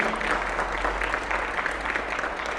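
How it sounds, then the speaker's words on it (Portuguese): Applause from a gathered crowd honoring a capoeira contramestre at a group event, a steady wash of many hands clapping at moderate level, fairly distant, continuing without break through the moment. "Uma salva de palmas para o contramestre"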